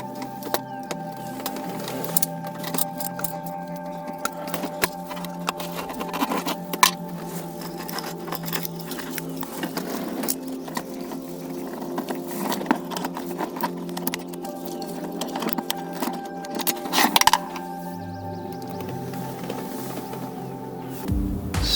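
A screwdriver works Torx T25 screws loose from the center console of a Land Rover LR3, giving faint, scattered ratcheting clicks and small mechanical ticks in a quiet space.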